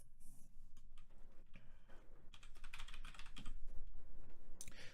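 Someone types JavaScript code on a computer keyboard, a close, continuous patter of irregular keystrokes that grows a bit busier and louder toward the end, with no voice over it.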